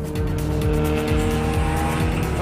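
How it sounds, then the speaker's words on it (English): A race car corners hard through track bends, engine roaring close with repeated gear-change dips and tyres squealing under load, all loud and continuous without talk. "The car is at a serious angle going around those bends at speed."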